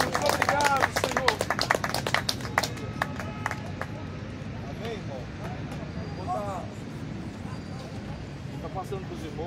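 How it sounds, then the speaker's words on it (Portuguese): Crowd clapping and cheering at a Christian street evangelism event feeding homeless people, a dense burst of applause loudest in the opening seconds, then fading into a murmuring outdoor crowd with voices talking. "vamos dar uma salva de palmas para Jesus"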